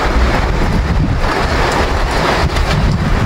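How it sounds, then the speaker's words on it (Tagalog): Dense, steady roar of heavy rain pouring down close by, with gusty buffeting and no voices. "grabe, inabot na tayo ng ulan"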